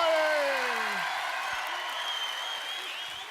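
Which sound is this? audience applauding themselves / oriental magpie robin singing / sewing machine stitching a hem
audience applauding themselves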